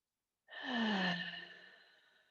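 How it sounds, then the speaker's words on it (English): One long, deep breath during a calm prenatal yoga session, heard alone and up close. It begins suddenly with a soft, airy exhale that swells and then slowly fades out like a sigh. "let's take a few deep breaths"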